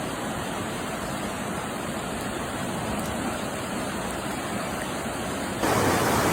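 Loud, continuous rush of turbulent floodwater in an urban stormwater creek at North Rocks Dam, a dense roaring wash close by with no breaks, swelling slightly louder near the end.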